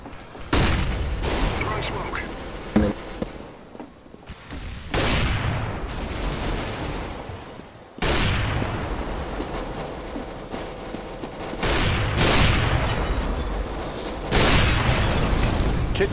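Loud bursts of massed gunfire from a CS:GO match, several volleys separated by brief gaps, each a dense crackling fusillade with booming explosive hits near the listener.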